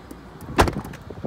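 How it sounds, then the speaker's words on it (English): A Tesla car door shuts with a single solid thump midway through, followed by faint mechanical clicks and light rattles in a quiet setting. "as soon as you get out and you have the door closed"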